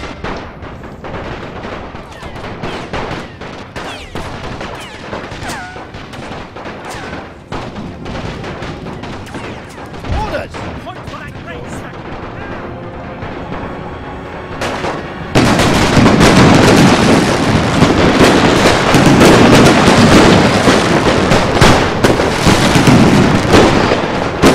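Dense musket and cannon fire from a Napoleon: Total War battle using The Great War mod, scattered crackling volleys that swell into a loud, continuous roar of gunfire in the later part, with no talk.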